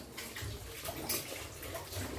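Water is poured from a measure into chocolate cake batter, a steady close splashing stream that runs for about two seconds with slight surges.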